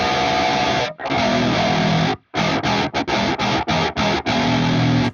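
Synth track built from scratch for a Final Fantasy 7 battle theme recreation, a dense distorted full-band texture that cuts in and out in rapid rhythmic stabs, loud and close, with no talking.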